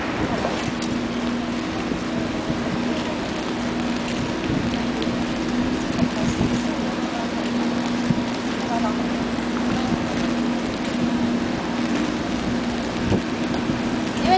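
Steady rain pours on an outdoor press conference about protecting the Hanben archaeological site, a constant, even hiss of drops on surfaces with faint voices underneath.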